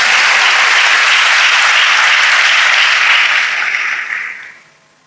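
A church congregation applauds loudly and steadily for several seconds, a dense wash of many hands clapping together that fades out toward the end.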